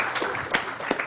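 Applause from a conference audience at an astronomy summer meeting, a brief continuous patter of many hands clapping with a couple of sharper claps near the end.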